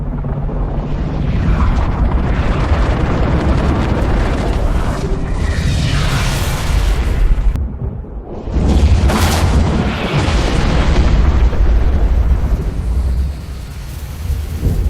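A huge energy explosion in a Lego animation, a loud, sustained rumbling roar with a brief dip midway before the roar surges back and continues.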